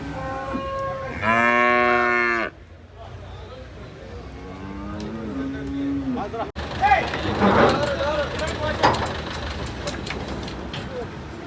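A cow moos loudly once, followed by another lower moo amid the busy murmur of the crowded Cholakkal cattle market at Payyanad, Kerala, with voices in the background.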